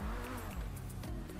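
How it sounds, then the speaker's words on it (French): McLaren Senna supercar engine in GTA, heard from inside the cabin as a steady, loud low drone with resonant harmonics that waver slightly, as if holding revs, with no talking over it. "Avec un bruit de McLaren."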